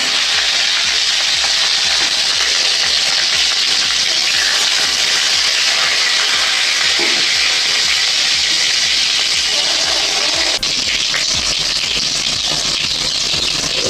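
Tomatoes and green chillies hit hot oil already seasoned with black cumin seeds, giving a loud, steady, close sizzle that lasts the whole time.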